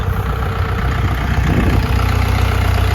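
A tractor engine idles with a steady low throb and rattle, close and constant for the whole stretch.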